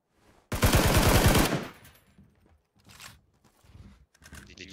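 A burst of rapid automatic gunfire in the shooter game PUBG, one loud dense volley lasting about a second, followed by quieter scattered game sounds and faint voices.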